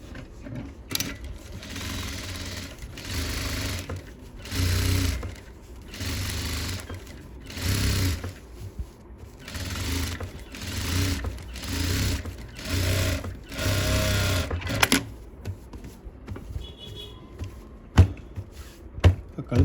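A sewing machine stitching a pattupavadai runs in loud, rhythmic bursts of whirring needle strokes with short pauses between them, then stops near the end, leaving a few clicks and handling noises.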